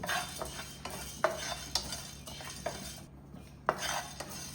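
Whole coriander seeds are dry-roasted in a pan with cumin and stirred with a spoon, giving repeated scraping clicks against the metal over a faint sizzle and a low steady hum.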